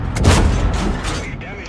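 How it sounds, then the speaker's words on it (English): A tank cannon in World of Tanks fires a premium round, one heavy booming blast that rolls off into a short rumbling decay, with a voice speaking over it. "I'm just gonna blow this guy up with premium rounds here, and that'll be fun"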